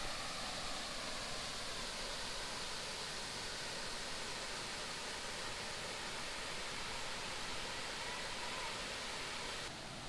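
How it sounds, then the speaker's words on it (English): Water pouring steadily down Horsepound Falls, a dense unbroken roar that holds at an even level throughout with no other sounds. "top of Horsepound Falls. The water comes down and over."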